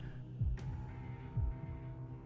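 A heartbeat effect in the Fate/Stay Night Unlimited Blade Works anime: two deep, thudding beats about a second apart over a low, steady hum.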